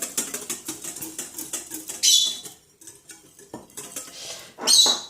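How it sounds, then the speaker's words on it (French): A homemade shower gel mixture is stirred in a pot, making close, rapid clinking and scraping of a utensil against the pot in quick rhythmic strokes, with a couple of brighter clanks. "Voilà, on mélange bien."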